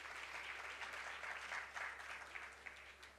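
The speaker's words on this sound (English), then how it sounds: "A round of applause for Ms. Indra Nui" Audience applause at a women's leadership awards ceremony, a continuous wash of many hands clapping, faint and somewhat distant, fading slightly toward the end.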